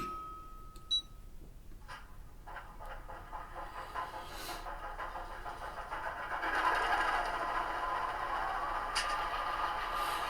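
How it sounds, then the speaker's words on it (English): A quiet electric whir rises and builds steadily as a Bachmann model diesel locomotive's small motor powers up on the track, with a few faint clicks and beeps early on. "I'm going to gently increase the voltage here on the track. You'll hear it power up."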